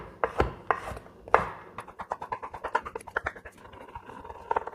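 Cheddar cheese chopped with a knife on a board, a quick run of close, crisp blade taps and scraping strokes, fairly quiet, with no talk.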